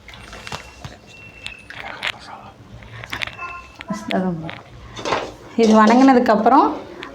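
A spatula clatters and scrapes against a pan while spice masala for mushroom butter masala is stirred and roasted on a low flame; sharp, irregular metallic knocks sound close, with someone talking near the end.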